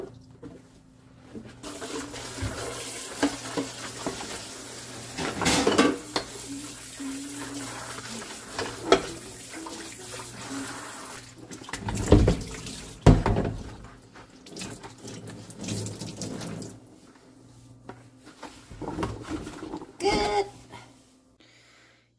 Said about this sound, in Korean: 저는 요리는 안 좋아하는데 설거지 하는 건 진짜 좋아해요.